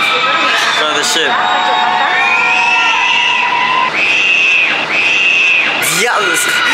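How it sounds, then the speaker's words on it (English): Crowds on a cruise ship deck yell, whoop and cheer as passengers head to the front of the ship. Loud, dense shouting fills the clip, with rising screams and whistles that come and go. "Everyone yelling. Because they're going to the front of the ship."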